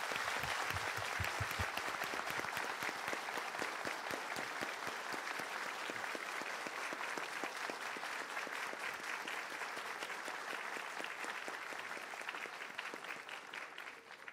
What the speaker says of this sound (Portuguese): Uma salva de palmas de pé para os senhores.